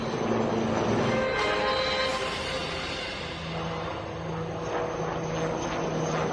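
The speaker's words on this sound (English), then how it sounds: "you can now see the advanced light helicopters Mark IV of the Indian Army, known as the Rudra" Indian Army HAL Rudra advanced light helicopters, Mark IV, fly past at the Aero India 2023 air show in Bengaluru, a loud rotor and engine drone with steady tonal hum, no talk.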